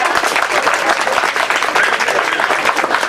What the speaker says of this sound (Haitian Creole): je demande un gros applaudissement pour Madame Poitvin